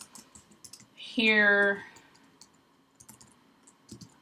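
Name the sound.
typing code on a computer keyboard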